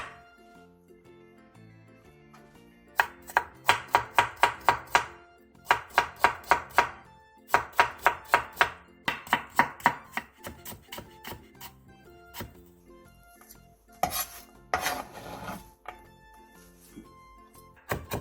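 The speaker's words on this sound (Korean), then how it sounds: "감자 3개를 얇게 채 썰어 주세요" A knife julienning three potatoes into thin strips on a cutting board, heard as close, crisp bursts of rapid rhythmic chopping separated by brief pauses, with light clinks near the end.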